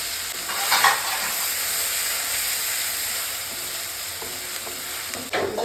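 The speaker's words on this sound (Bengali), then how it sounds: "পেঁয়াজটা লাল লাল করে ভাজবো।" Onions and garlic paste fry in oil left over from frying fish, spiced with garam masala, cardamom and cinnamon, giving a loud, steady sizzle with occasional stirring scrapes and no talking.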